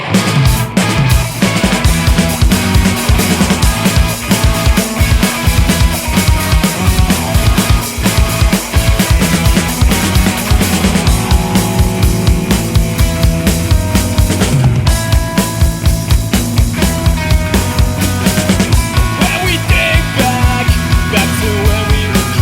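Full-band music plays continuously and loudly, with steady drums, bass and layered instruments and no talking over it.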